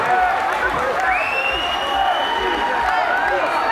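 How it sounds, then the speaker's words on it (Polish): Crowd applause and cheering wash steadily through an award ceremony at a music festival in Szczecinek, a dense, continuous roar with a voice speaking over it. "Wielkie brawa, moi drodzy!"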